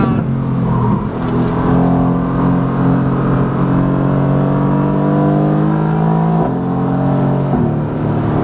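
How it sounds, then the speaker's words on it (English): A 2017 Mercedes-AMG GT S with an Akrapovic Evolution exhaust, in race mode with valves fully open on a damp track, holds a loud, sustained engine note. The pitch climbs steadily through the gears with brief shift breaks, close and continuous. "So the car is on race mode, the exhaust is full open, the track is a little bit wet."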